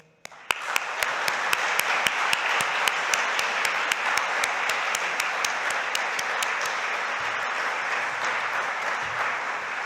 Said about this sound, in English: A huge big thanks and round of applause, please, to our wonderful volunteering team.